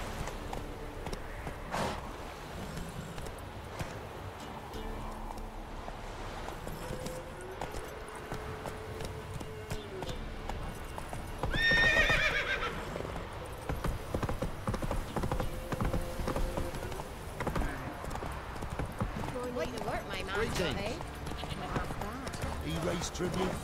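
Hoofbeats of Roach, a horse in The Witcher 3, clop steadily at a gallop across the whole stretch, with a brief whinny near the middle, all under ongoing talk and game sound.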